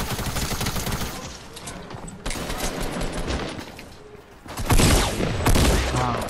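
Gunfire in a video game match where an opponent carries a shotgun, repeated loud shots and bursts coming in clusters, getting louder toward the end.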